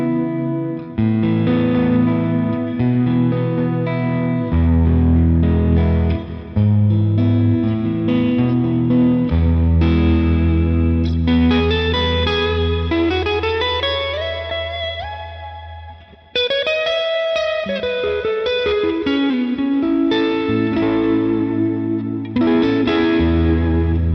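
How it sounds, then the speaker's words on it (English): An electric guitar plays through a Line 6 Helix Dynamic Hall reverb, sounding as sustained, chorus-tinged chords and melodic lines with a long, spacious hall tail, loud and continuous. "Reverb is still going to be a very prevalent part of this sound."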